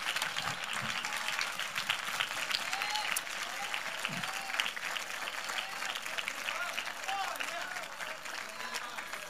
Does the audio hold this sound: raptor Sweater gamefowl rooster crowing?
no